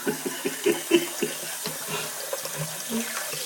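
Hot water runs from a tap into a sink, a continuous splashing flow with irregular thumps and knocks over it, close and moderately loud.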